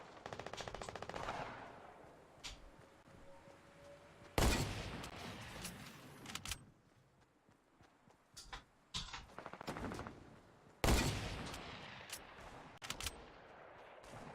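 Gunfire in the Fortnite video game: loud bursts of rapid automatic shots in clustered volleys, separated by quieter stretches with scattered single shots.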